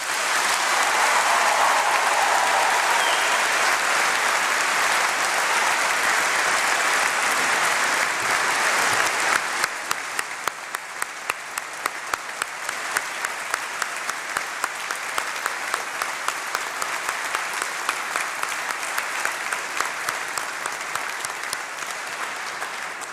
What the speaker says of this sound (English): I invite us all to give a massive round of applause to the class of 2022